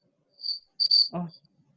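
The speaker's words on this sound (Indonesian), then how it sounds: "suara jangkriknya sampai sini nih." Crickets chirping, carried over a video call: a few short, high, trilling chirps in quick succession, faint and fairly close, followed by a brief low murmur.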